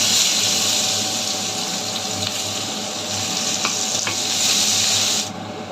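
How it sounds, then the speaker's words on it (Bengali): Bay leaf, nigella seeds and chopped onion sizzle in hot oil with a loud, steady, close frying hiss. A few faint clicks sound partway through, and the sizzle cuts off abruptly near the end. "তেজপাতা দিয়ে দেবো, কালো জিরা ফোড়ন দেবো, পেঁয়াজ কুচি"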